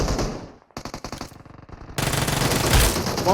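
An Uzi submachine gun fires in PUBG Mobile, sharp rapid bursts of automatic shots with a short gap, then a denser, louder stretch of continuous gunfire, no talk over it.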